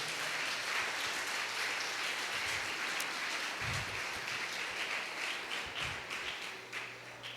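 A church congregation applauds during a worship conference, a steady wash of clapping from many hands that carries on throughout, with a few thumps underneath and a gradual slight fade near the end.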